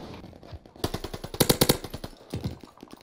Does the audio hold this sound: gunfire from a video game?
yes